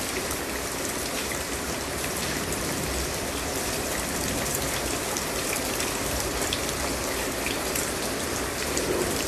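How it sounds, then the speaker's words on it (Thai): Steady rain falls in a dense, even hiss of drops hitting surfaces, continuous throughout with no voices. "ฝนมาแป๊บๆแล้วก็หยุดนะ"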